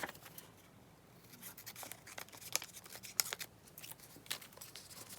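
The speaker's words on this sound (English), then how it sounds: "We need to cut it a little bit." Scissors trimming a thick collectible photocard, with a few soft snips and crisp clicks scattered among light paper rustling, quiet and close.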